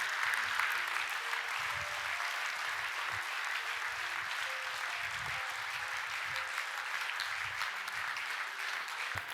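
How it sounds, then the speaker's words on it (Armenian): A church congregation claps in a sustained, even wash of applause, moderately distant, with a faint tonal voice or music line threading beneath. "արեք ծափահարենք Տիրոջը"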